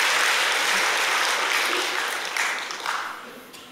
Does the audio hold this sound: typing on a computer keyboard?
no